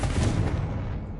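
Confringo spell explosion in Hogwarts Legacy, a single deep booming blast that rumbles and fades over about a second.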